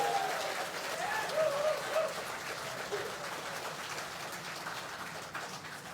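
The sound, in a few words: warm applause of thanks for the MMDA family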